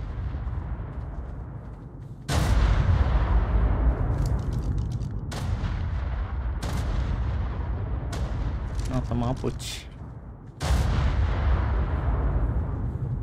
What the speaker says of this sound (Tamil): பாருங்க வெடி கொண்டு வேற லெவலில் போட்டுட்டு இருக்கான்.